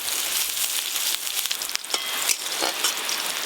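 Nigella seeds, chopped onion, green chilli and garlic fry in hot oil, giving a steady, bright sizzle with occasional crackles and stirring scrapes, close and alone.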